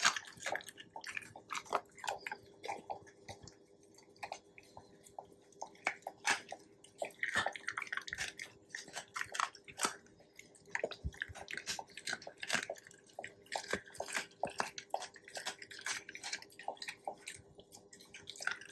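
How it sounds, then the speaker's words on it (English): Close, quiet crunching and wet chewing as a 7-month-old Labrador puppy gnaws raw duck feet, with irregular cracks and squishy bites throughout. "I love hearing that nice, satisfying crunching sound."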